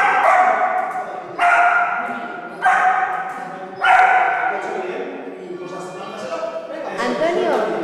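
A police dog trained to do arithmetic gives several loud, sharp barks in a quick series, followed by softer whining yips, with voices talking in the background.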